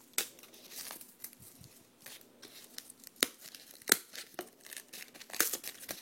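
A sanding paper pad used for polishing a resin ball is undone and torn, giving a series of sharp, irregular ripping and crinkling bursts, fairly close and alone.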